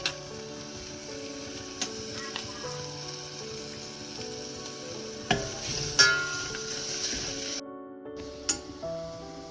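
A banana flower vegetable cooks in a pan with freshly grated coconut, giving light stirring scrapes and soft sizzling over steady background music, with a few sharper clinks.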